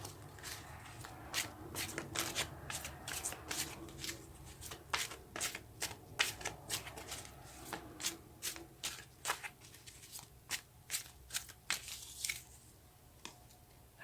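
Tarot cards shuffled by hand, repeated riffling and sliding bursts with soft slaps in an uneven rhythm, close and fairly quiet with no talking.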